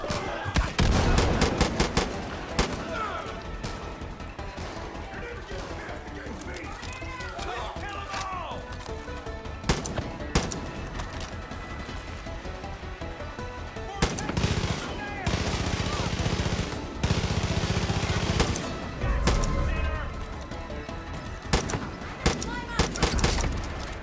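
Rifle fire in Far Cry 5, with dense repeated gunshots cracking in rapid bursts and scattered single shots against a busy, noisy background, and a voice talking at times.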